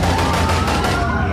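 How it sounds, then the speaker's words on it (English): A dense, continuous burst of gunfire from people jumping out of a car and shooting at a popular hangout, with rapid overlapping shots blurring into a loud, unbroken roar. "They jumped out the car and started shooting."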